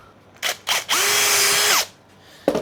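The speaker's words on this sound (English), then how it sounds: "I'm going to get a couple of cheeky screws in." A power drill drives screws into a Les Paul guitar template, with two short trigger bursts followed by a longer steady whir that spins up and slows down, and one more brief burst at the end.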